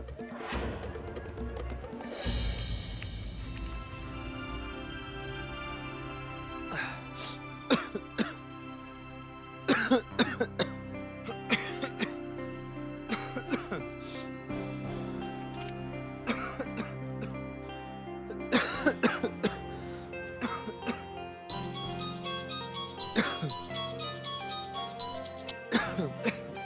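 Repeated coughing bursts, some close together and some spread out, mixed with throat clearing over a steady background.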